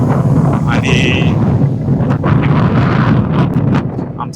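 Strong gusting wind on the Anjaneri hilltop at Hampi buffets the microphone in a loud, continuous roar for the whole stretch, with voices faintly mixed in beneath it.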